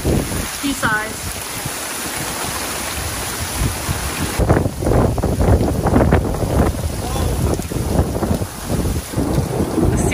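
Storm with hail and gusting wind near the water, a steady roar of wind buffeting the microphone and rain or hail pattering loudly throughout, growing heavier in the second half.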